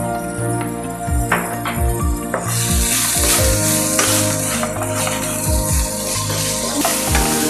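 Chicken pieces frying with garlic and ginger in a pan, a continuous sizzle with repeated scraping stirs at a steady rhythm, close and fairly loud.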